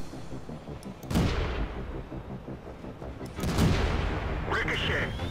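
Tank gun shots in World of Tanks, two heavy booming cannon blasts a few seconds apart, each with a long rumbling tail, over a steady engine hum.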